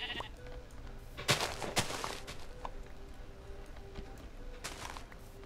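Minecraft sheep bleat in brief bursts within a busy game scene, with footstep-like clatter and other game noises around them and no talking.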